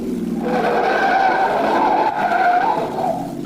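A getaway car in an old radio drama skids around a corner, a loud, sustained tire squeal that rises and holds for a few seconds before easing off, heard alone without voices.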